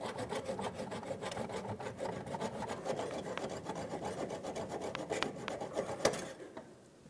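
A power steering hose line on a 2003-2008 Toyota Matrix being cut, a steady raspy rubbing and grinding that runs for several seconds, close and loud, then tapers off at the end.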